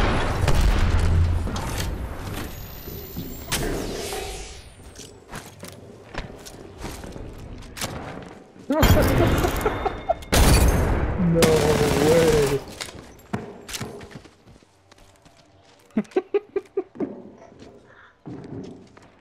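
Grenades go off in an Apex Legends firefight as loud, heavy booms mixed with bursts of gunfire, clanking mechanisms and footsteps, with a player talking over the action.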